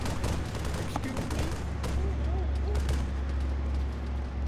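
Gunfire in the video game ArmA 3 during a battle with a tank, a dense steady barrage of shots under a constant low rumble, with a voice talking over it.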